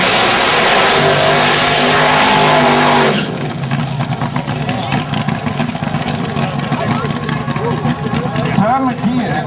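A drag racing car with a 392 Hemi Chrysler engine at Union Grove Drag Strip roars loud and close at full throttle, then drops away into a rough, revving idle with crackling exhaust.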